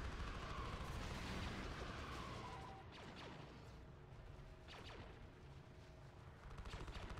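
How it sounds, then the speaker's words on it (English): A heavy turret in a Star Wars video game fires a dense, rumbling barrage of explosive blasts, loud and continuous with booming impacts swelling again near the end. "I think the heavy turret just shot at me."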